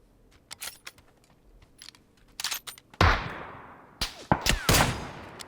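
Video game gunfire cracks out in scattered single shots and short bursts, growing louder and denser toward the end, with faint clicking in the background.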